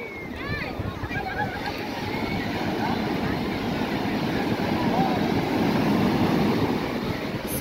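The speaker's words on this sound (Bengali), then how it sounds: "সমুদ্রের কি ঢেউ" Ocean waves roll onto Puri beach, a broad, continuous wash of surf that swells gradually louder, with wind buffeting the microphone.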